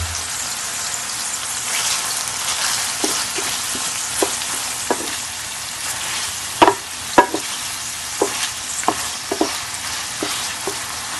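Shrimp paste (alamang) frying in a pan while cooking binagoongang pusit, a steady dense sizzle with scattered sharp pops and stirring clicks throughout, close and continuous with no talking.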